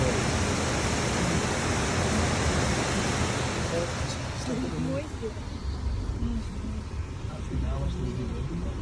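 A waterfall running at full flow near Milford Sound roars as a constant, broadband rush of water, steady and loud throughout, with faint voices murmuring beneath it.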